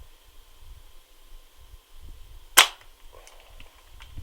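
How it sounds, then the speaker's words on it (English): A vintage Daisy/Maruzen shell-ejecting toy Mini-Uzi dry-fires with no pellet, a single sharp close snap over quiet background with faint handling clicks after. "here's it firing without a pellet"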